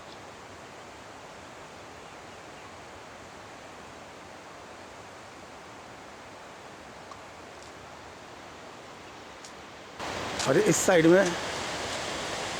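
The Alakananda river rushes steadily in the distance at Nandprayag, a broad, even hiss of flowing water with no pauses, and near the end a person starts speaking over it.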